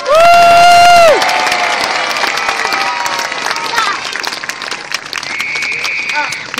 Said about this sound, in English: give the biggest cheer you possibly can for the crew